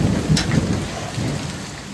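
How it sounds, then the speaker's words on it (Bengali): Heavy rain pours down during a violent thunderstorm with hailstones falling, a dense, loud, steady roar of downpour with a rumbling low undertone and no voices. "তো ভালোই বৃষ্টি হচ্ছে আমাদের এখানে"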